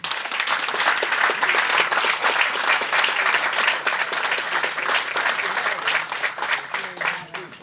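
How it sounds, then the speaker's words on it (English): Sustained applause from the audience at a school board trustee candidate forum in Hempstead, dense and steady throughout and loud and close, with a little voice noise underneath. "I think all of them deserve a round of applause"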